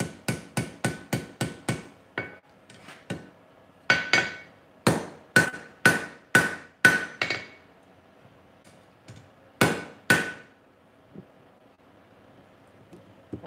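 Mystery steel chain link being forge welded under a hammer: a fast run of sharp, ringing blows, then slower spaced strikes with pauses between, close and loud.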